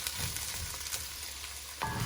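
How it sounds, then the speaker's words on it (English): Onions fry in heated oil in a kitchen pan for a venison sausage cabbage soup, a steady close sizzle with a few stirring scrapes and a louder burst near the end. "now that we got our oil heated up, let's add in our onions"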